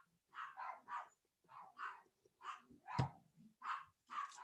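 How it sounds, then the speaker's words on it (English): Puppies barking at a visitor, a run of sharp, evenly spaced yips and barks, about nine in quick succession, fairly distant and faint in a quiet room. "sound like I have a visitor because my puppies is going berserk"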